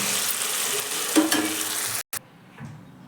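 Bottle gourd chutney stirred in a pan, with a close, steady scraping and light sizzle that runs for about two seconds, then stops abruptly and leaves only faint quiet handling sounds.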